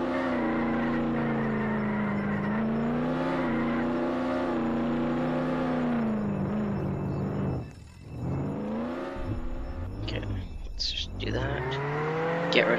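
A car in the Roblox game Jailbreak drives with a steady engine drone that dips and swells as it slows and revs, with brief tire noise, heard close under ongoing talk.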